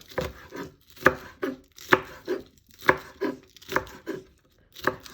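A knife chops spring onions on a cutting board in sharp, regularly spaced thuds, roughly one knock each second, close and clear.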